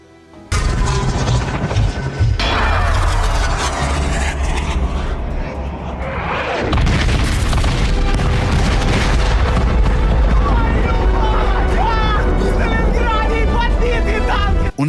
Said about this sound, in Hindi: जर्मन रॉकेट कैंप में धमाकों की लाइन लग गई।